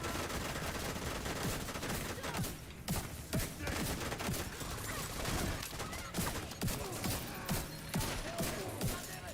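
Minigun fire in The Division 2 video game, a dense continuous stream of rapid shots and explosive impacts, loud and sustained throughout.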